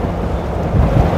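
Strong wind buffets the microphone during a road cycling race in Laoac, Philippines, with a steady low roar that swells slightly toward the end.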